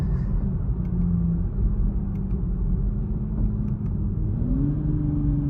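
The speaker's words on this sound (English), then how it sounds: "if you hear that, the valves are closed right now, so you're not going to get a lot of those burbles" Toyota A90 Supra with a catted downpipe, exhaust valves closed, cruising in sixth gear in stock mode: a steady low droning rumble from inside the car with a slight rise in pitch, no burbles or pops and no talking.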